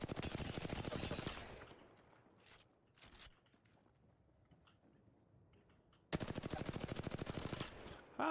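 Rapid automatic gunfire rattles in two loud sustained bursts in a battle royale video game, separated by a quieter gap with a few faint distant shots and ticks.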